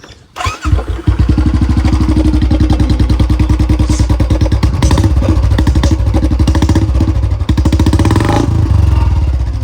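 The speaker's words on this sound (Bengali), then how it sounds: "চলো আগে স্টার্ট করি স্টার্ট হচ্ছে না কেন" A newly bought motorcycle is started after being put in neutral: a brief cranking sputter, then the engine catches and runs steadily at a loud, close, even idle with a rapid regular thrum.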